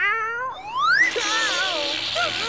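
An animated cartoon cat gives a loud, close meow that slides upward, then a couple of shorter wavering mews, with a brief springy effect in between.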